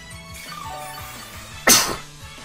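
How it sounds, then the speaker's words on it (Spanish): A single sharp, close sneeze bursts out over quiet video-game background music during a Pokémon battle, then fades quickly. "Perdón por el estornudo."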